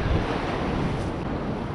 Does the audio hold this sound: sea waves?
yes